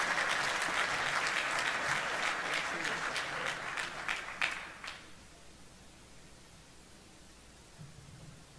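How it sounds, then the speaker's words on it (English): A conference audience claps after remarks opening a panel on a new Pacific war. Dense, even applause for about five seconds, then it quickly dies away to a quiet room. "a big round of applause"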